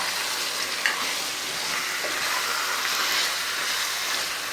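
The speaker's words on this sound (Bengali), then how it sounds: "এরকম করে আমি কিছুক্ষণ কষিয়ে নেব" Chicken curry sautéing in a pan, a steady loud sizzle with the scrape of a spatula stirring through it, continuous and close without any talking.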